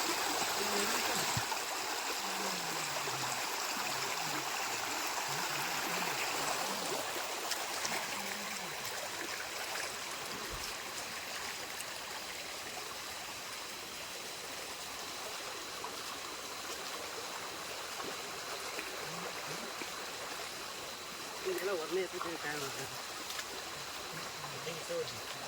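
A stream in Konkan, where people are out catching crabs, flows with a steady, broad rush of water throughout, while voices talk intermittently nearby over it.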